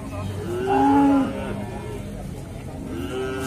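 Simmental beef cattle at a livestock market give a low, drawn-out moo near the start, with a fainter second call later amid steady background murmur and crowd noise.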